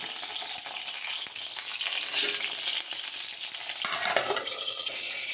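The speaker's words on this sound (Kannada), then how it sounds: "ಇವಾಗ ಇದು ಯಾವ ರೀತಿಯಲ್ಲಿ ಫ್ರೈ ಆಗುತ್ತೆ ನೋಡೋಣ" Bitter gourd (hagal kai) fries in a pan with a steady, close sizzle that fills the whole stretch, broken by occasional scraping stirs. No one speaks.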